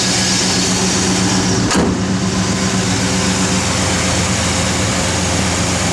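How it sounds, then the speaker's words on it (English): Small block V8 in a 1964 Chevrolet Malibu, running on pump gas, holding a steady loud idle close to the microphone with a brief click partway through, no talking. "Good running small block, runs on pump gas"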